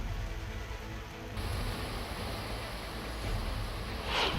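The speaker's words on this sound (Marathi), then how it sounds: "अधूनमधून पावसाची संततधार जी आहे ती पालघर जिल्ह्यात सुरू आहे" Continuous rain falls in Palghar district, a steady broadband hiss that holds at an even level for the whole stretch, with no other distinct sounds.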